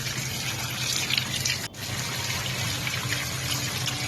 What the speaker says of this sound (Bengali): কেটে নিয়ে এবারে আমি এগুলোকে ভালো করে ধুয়ে নিচ্ছি।